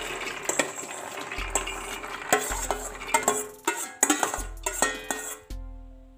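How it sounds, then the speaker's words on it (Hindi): Soaked chickpeas clatter and splash into a pressure cooker for boiling chole, a run of sharp knocks, rattles and watery tumbling up close, ending with a metallic clank. "अब चने को बॉयल करने के लिए प्रेशर कुकर में डाल देते हैं।"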